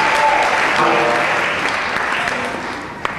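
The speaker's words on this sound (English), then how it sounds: "That's where you applaud for me." Audience applause rolls on continuously and loudly, a dense wash of clapping that fades slightly toward the end.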